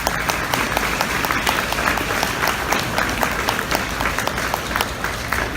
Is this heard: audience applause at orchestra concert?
yes